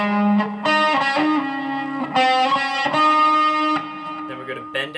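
Distorted electric guitar plays a solo lick, with sustained bent and hammered notes in short phrases, loud and close with effects, no talking over it.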